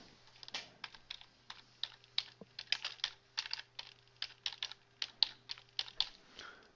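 Typing on a computer keyboard, a run of close, crisp keystrokes in uneven bursts with short pauses between, no talking.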